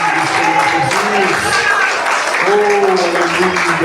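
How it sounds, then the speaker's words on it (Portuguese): Church congregation applauding during a worship service, steady loud clapping throughout with voices shouting and singing over it. "Mais aplausos para glorificar"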